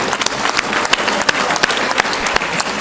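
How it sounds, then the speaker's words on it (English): Audience applause fills a hall at the Durban University of Technology's State of the University address, honoring the Vice-Chancellor. The dense, loud clapping stays steady throughout, with sharp individual claps standing out. "another round of applause, please, for the Vice-Chancellor"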